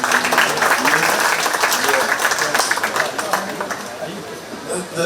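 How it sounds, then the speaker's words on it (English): Applause for young exhibitors at a county fair 4-H cattle show rolls on steadily from a crowd, mixed with chatter and voices, easing slightly toward the end. "Let's give these young exhibitors a really nice round of applause."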